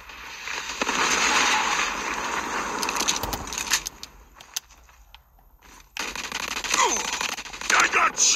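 Rapid automatic gunfire and sharp shot bursts from a Call of Duty multiplayer match, loud at first and then broken by a quieter gap before the firing starts again. A voice speaks over part of it.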